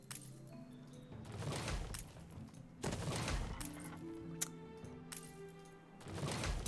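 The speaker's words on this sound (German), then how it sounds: "Schiff unter Beschuss." Ship under fire in the Anno 1800 video game: bursts of cracking gunfire and clinking impacts come in several waves over a droning game soundscape, moderately loud with short gaps between volleys.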